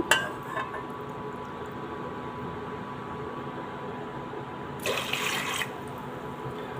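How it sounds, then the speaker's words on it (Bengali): Water runs steadily from a tap into a pot, a constant hissing stream, with a brief louder splash partway through as it hits the vessel. "তো তিন কাপ পানি দিয়ে দিয়েছি"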